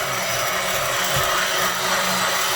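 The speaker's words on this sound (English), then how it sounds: "keep the blender moving and keep pressing down on the vegetables" A hand blender grinds steadily through vegetables for a herbed tomato sauce, a continuous close motor whir with brief dips in load as it is pushed down and moved around, no voices.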